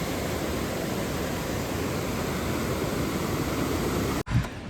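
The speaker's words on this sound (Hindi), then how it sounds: "भर के चल रहा है, पूरा झरना।" A full waterfall of clean water on the Manali–Rohtang route roars as a steady, dense broadband rush. It cuts out abruptly near the end, then a brief thump follows.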